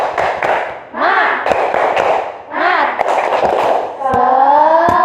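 Teacher and young students in a classroom performing a rhythmic clapping chant, with sharp hand claps in a steady pattern and voices chanting loudly between and over the claps.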